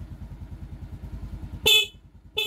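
A Suzuki Raider J FI 115 motorcycle engine, top-overhauled, idles with a steady rumble, then a loud horn blasts briefly, stops, and sounds again right at the end.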